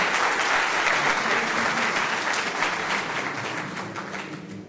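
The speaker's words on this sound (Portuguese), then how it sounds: "aplaudir" An audience applauds a speaker after a first presentation at a talk on digitization with free software at Banco do Brasil. The clapping is dense and steady, then slowly thins and softens toward the end, with no talking over it.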